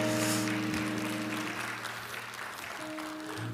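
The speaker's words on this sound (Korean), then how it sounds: "다시 한번 큰 박수" Big round of applause from a church congregation at a Sunday service welcoming newcomers, following a baritone's performance; steady, fairly loud clapping with sustained musical tones ringing underneath.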